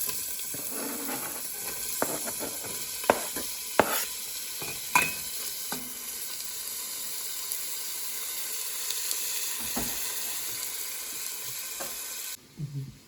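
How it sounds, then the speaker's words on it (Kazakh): Onion frying in oil in a hot pot for a chicken soup, a steady soft sizzle with occasional scrapes and taps of a stirring utensil, then a brief pause near the end. "Және пока жуамызды салып қуыра береміз."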